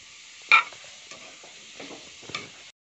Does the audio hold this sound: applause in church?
no